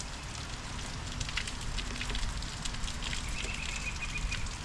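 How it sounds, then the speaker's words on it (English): Steady rain comes down on an overcast day, a continuous broadband hiss with soft patter, heard alone at a moderate level throughout with no voices. "As you can probably hear, we have rain coming down today."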